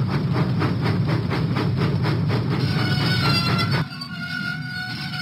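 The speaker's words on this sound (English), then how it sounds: "Thomas pumped his pistons and puffed out of the docks." Steam engine chugging in a Thomas and Friends video game, with a steady rhythmic puffing and clattering rail noise that cuts off abruptly near the end.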